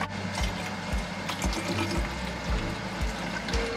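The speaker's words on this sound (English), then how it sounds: "I'm gonna pour water in my water bottle so that I can stay hydrated overnight." Water pouring from a tap into a water bottle in a hotel-bound flight attendant's room, a steady close rushing splash with no talk over it.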